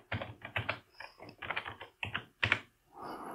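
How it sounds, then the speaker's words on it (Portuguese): Someone types a password on a computer keyboard, with quick bursts of close, crisp key clicks in uneven clusters and one final heavier keystroke, no talking. "Aí só você digitar e dar um enter."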